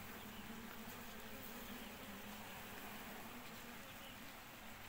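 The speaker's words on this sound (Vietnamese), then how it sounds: "ong đang đi làm rất là mạnh" Dense, steady buzz of honeybees swarming around their hives during the mid-morning foraging rush in summer, a continuous loud drone filling the whole clip with no voices.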